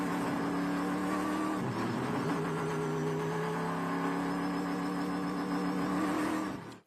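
Trans Am race cars roll two by two around Canadian Tire Motorsport Park before a rolling start, a dense, steady engine drone holding loud and near throughout with a brief shift in pitch partway through.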